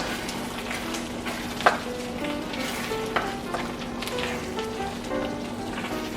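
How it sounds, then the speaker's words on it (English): Ground beef fries in a pan for a Bolognese sauce, with a steady, close sizzle and crackle running throughout and a couple of sharper spoon or stirring knocks rising above the hiss. "going to add this into our ground beef. And we're gonna let this continue cooking."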